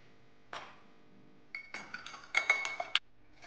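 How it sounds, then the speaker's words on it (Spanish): An egg being beaten with cutlery in a bowl while making an apple and cream cheese strudel: a single clink, then a quick run of metallic taps and rattles against the dish, quiet and close, with no one talking. "Enseguida vamos a batir un huevo"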